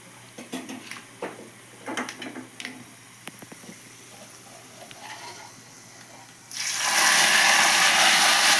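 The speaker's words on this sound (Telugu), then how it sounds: "పోపు అయితే అయిందండి, నేను దీంట్లో వేసేస్తున్నాను." Reddish-fried tempering (popu) tipped into a pot of drumstick sambar, hitting with a sudden loud, broad sizzle that holds steady to the end after a stretch of quieter kitchen clatter.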